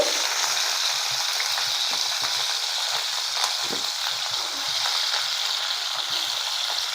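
Potatoes, cauliflower and beans fry lightly in hot oil in a pan, giving a steady, close sizzle with soft crackles throughout and no talking.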